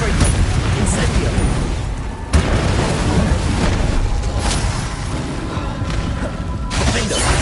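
Spell explosions from Bombarda and Confringo boom in the Hogwarts Legacy video game. Dense, loud blasts and crashes layer over steady game noise throughout, with a sharp burst near the middle.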